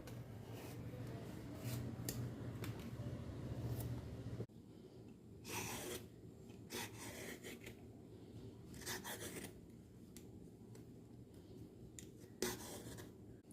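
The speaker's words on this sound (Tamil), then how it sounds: "சொரக்காயை கட் பண்ணி எடுத்துடுவோம்." A knife cuts and peels a bottle gourd close up, with repeated rasping scrapes and short slicing strokes at an irregular rhythm and a low hum in the background.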